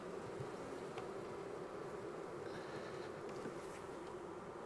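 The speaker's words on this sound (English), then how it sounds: "The bees are fanning inside there because they're probably looking for this lady" Honey bees fanning inside a hive after a freeze, a steady dense buzzing hum that stays loud and even throughout, close by with no talk.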